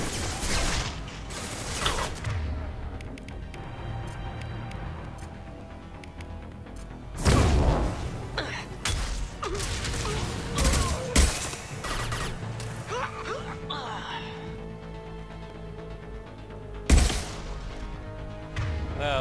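Assault rifle fire in Mass Effect 2 during a firefight, with several sharp bursts and clanking impacts scattered through about twenty seconds over a steady battle din, with no speech.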